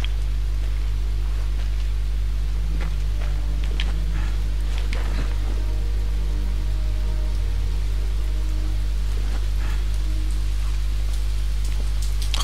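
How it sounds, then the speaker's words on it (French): Heavy rain falls outside a home, a constant diffuse patter with scattered sharper drops, heard faintly behind a strong low hum and a few clicks close to the microphone. "il pleut comme une vache qui pisse dehors chez moi"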